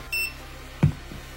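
A standalone buzzer on a Nazgul FPV drone sounds once the battery is unplugged: one short, high electronic beep, followed a moment later by a dull nearby thump.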